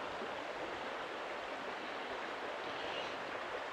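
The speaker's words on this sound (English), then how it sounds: "It's nice to hear the sound of the water." A river in rural Wales flows in a steady, dense rush of water, close and continuous with no breaks, heard alone without any voices.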